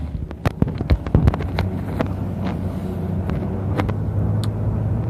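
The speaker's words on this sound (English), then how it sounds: "Today is day 26, and I am driving again." A car driving on a road, with steady low engine and road rumble, wind buffeting the microphone, and a few sharp knocks near the start.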